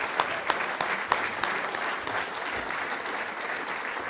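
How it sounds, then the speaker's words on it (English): Conference audience applause rises as steady clapping from a roomful of people, with a few sharper individual claps standing out early and the sound holding even throughout. "So give yourselves a round of applause."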